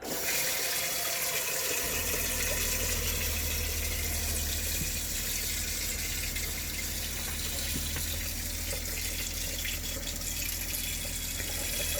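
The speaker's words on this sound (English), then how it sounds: "I finally got hot water to the shower today" Hot water gushes from a newly plumbed shower, a loud, steady hiss of spray that starts abruptly and keeps running without pause, close by and with no voices.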